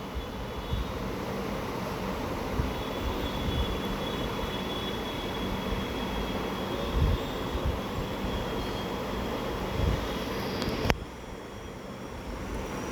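Pomfret fish fries in hot oil with a loud, steady sizzling hiss that fills the whole stretch, dropping off sharply just before the end.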